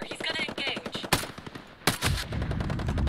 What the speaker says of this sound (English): Firing on enemy positions.